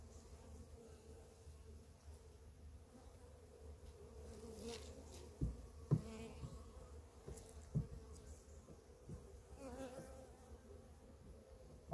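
Honeybees buzz steadily at close range at a hive, a low continuous hum with a few louder individual buzzes passing near, and faint background knocks.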